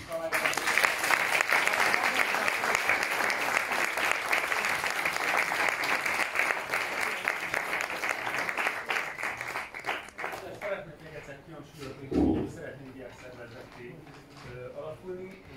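Sustained audience applause after a panel discussion on a sustainable economy, dense and steady for about ten seconds before thinning out, with a voice speaking over the tail.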